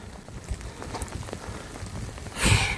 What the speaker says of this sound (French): On va courir sous la pluie, mais tant pis.